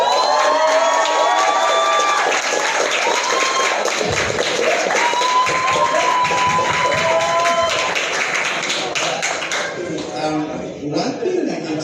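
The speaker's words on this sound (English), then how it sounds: "please help me just give a round of applause to my parents" Loud, sustained applause and cheering from a live show audience for a speaker's parents, with whoops and shouts over the clapping, thinning out toward the end.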